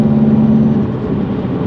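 A 2005 Subaru Impreza WRX STi sedan with 143,000 miles, heard from inside while driving: a loud, steady engine drone and road rumble that eases off slightly partway through.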